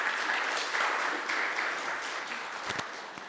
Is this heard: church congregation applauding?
yes